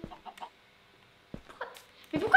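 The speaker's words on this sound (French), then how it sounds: "Mais pourquoi il y a des poulets?" Minecraft chickens cluck in short, close bursts separated by quiet gaps, a few soft clucks at first and a louder cluster at the end, with no speech.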